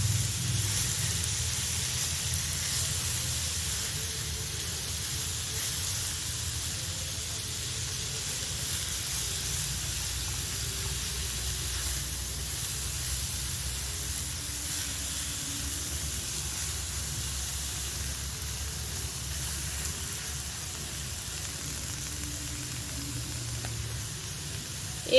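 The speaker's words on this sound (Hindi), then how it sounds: "इसको 1 मिनट मिक्स करके अच्छी तरह से फ्राई कर लीजिए।" A bottle gourd and potato kebab mixture fries in a pan, giving a steady, even sizzle and hiss that runs unbroken at moderate, close level with no other activity.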